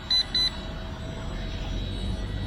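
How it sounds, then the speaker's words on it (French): Two short, clear electronic beeps come from an RC ERA C127 AI helicopter in quick succession, followed by a quiet, steady hum with no further tones. "Bon, c'est dommage que ça bip"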